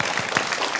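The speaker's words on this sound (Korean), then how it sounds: "박수 한번 치겠습니다. 우리 권사님들." A church congregation claps steadily for the deaconesses at a Friday worship service, a dense, even patter of many hands filling the room.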